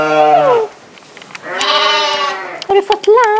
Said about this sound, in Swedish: Här är lammen tror jag.